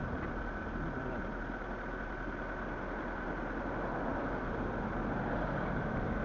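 A Proton Waja MMC, converted from automatic to manual, idles with a faulty idle valve and stepper motor, giving a steady low engine drone with a constant hum and no talk over it.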